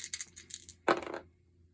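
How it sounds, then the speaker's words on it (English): Percentile dice tumble across a tabletop during a Mork Borg session, one short clattering roll that rattles for a few beats, near and fairly quiet, following some faint earlier clicks. "Let's roll my percentile dice."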